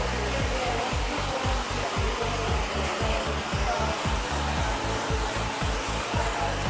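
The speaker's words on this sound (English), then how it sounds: "Full heat, full speed, come right in and just dry really quickly into the roots." A hair dryer running on full heat and full speed while drying curly hair at the roots: a loud, steady, close-up roar with a low pulsing flutter throughout, and no talking.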